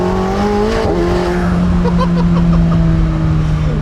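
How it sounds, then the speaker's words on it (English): McLaren 750S Spider supercar on an Alpine road shifts into second and accelerates hard with a brief wheel spin, engine note rising loud and close with steady harmonic drone and tire noise throughout. "little bit of wheel spin there."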